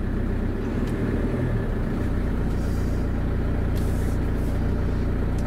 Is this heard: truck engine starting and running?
yes